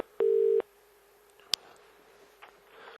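A steady telephone line tone sounds at the start of a recorded phone call: one short, loud, even beep that stops cleanly, then a quiet line with a faint click.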